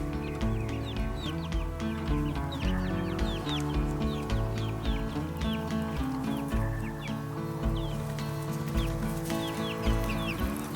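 Ameraucana chickens clucking and chirping near a coop, a dense continuous flock chorus heard up close with overlapping calls and a steady outdoor background.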